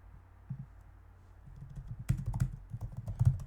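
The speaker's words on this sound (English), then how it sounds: "let's type in landscape and design" Computer keyboard typing a search phrase: scattered soft clicks at first, then a denser, louder burst of keystrokes in an uneven rhythm, close up with no talking.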